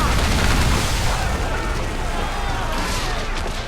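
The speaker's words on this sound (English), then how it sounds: "As we get in close, we're going to unleash the heavy shot." Heavy shot cannon fire from a ship in Assassin's Creed 4 naval combat, a dense, loud rumbling roar of booms blending into continuous noise throughout.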